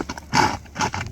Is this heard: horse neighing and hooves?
yes